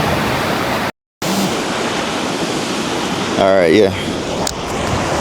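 Ocean surf and wind on a beach during a morning walk, a loud continuous roaring wash with wind buffeting the microphone, briefly cut out, while someone speaks a few words over it.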